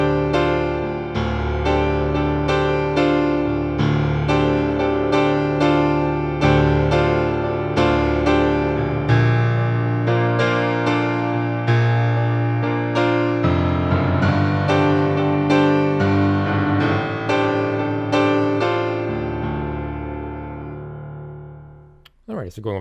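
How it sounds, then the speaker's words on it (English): A piano plays the main part of a song, a steady repeating pattern of sustained chords and notes that carries for about twenty seconds before fading out with a final soft touch. "now on to the main piano part, which sounds like this"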